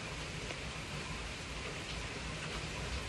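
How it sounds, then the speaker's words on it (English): Steady rain falling outdoors, a dense continuous hiss that stays even in loudness throughout with no voices. "it's raining"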